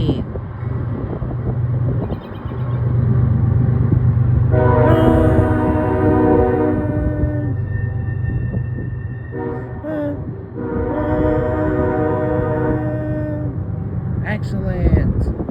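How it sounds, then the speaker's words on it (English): Eastbound CSX mixed freight train rolling past with a constant heavy rumble, its multi-tone horn blaring loud and close in two long blasts separated by a short break. "What a beautiful train horn."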